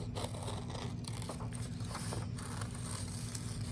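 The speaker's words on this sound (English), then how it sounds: "I'm going to cut this out really carefully." Scissors snip steadily and carefully through paper to cut out a circle for a mosaic collage, giving soft, repeated crisp cuts over a constant low background hum.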